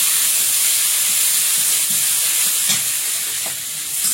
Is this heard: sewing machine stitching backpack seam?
no